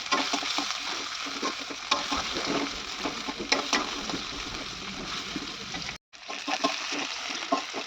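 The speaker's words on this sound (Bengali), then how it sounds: "আর এই যে কেটে রাখা পেঁয়াজগুলো দিয়ে দিলাম পেঁয়াজগুলো ভেজে নেবো ভালো করে" Sliced onions frying in hot oil in a wok, a steady close sizzle with stirring scrapes throughout and a brief break near the end before the hiss resumes.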